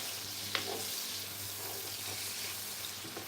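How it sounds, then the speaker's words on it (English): Purple onions sweating in a pan before a rich chicken curry, a steady, fairly faint sizzle that runs unbroken throughout, with a couple of soft stirring taps and no voices. "I just want to make these onions to sweat a bit to release all this loveliness."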